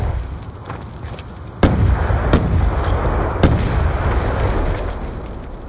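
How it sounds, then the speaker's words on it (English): Grenade blasts in Black Ops 2 during a Search and Destroy match on Standoff: three sharp, loud booms spaced about a second apart over a rumbling battle backdrop, with no talking. "I'm nading A right now"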